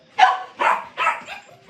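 A puppy named Tater barks three quick, high yips in a row, close and clear, the last one trailing off softly.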